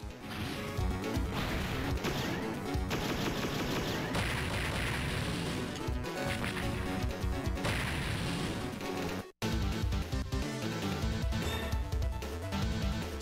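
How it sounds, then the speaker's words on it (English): Gatling cannon fire in the Power Rangers Ninja Storm Game Boy Advance game, a loud, dense barrage of crunchy crashing bursts mixed with game music that runs almost continuously, with one brief dropout near the end. "hit him with the Gatling cannon"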